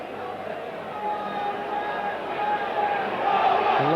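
A Leeds rugby league crowd cheers and roars at a Castleford v Leeds match, a dense, steady wall of stadium noise that swells toward the end, with a commentator talking over it.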